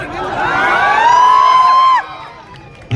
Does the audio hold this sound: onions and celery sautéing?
no